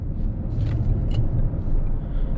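Omoda 5 SUV with a 224-horsepower engine drives along, a steady low rumble of engine and road noise filling the cabin, with no talking over it.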